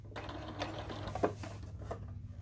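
A sewing machine stitches the seam of a fabric oven mitt right along the edge, a steady close mechanical whir with faint ticking running the whole time, no talking.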